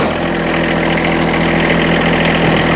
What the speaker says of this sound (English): Let's go ahead and get the tractor started.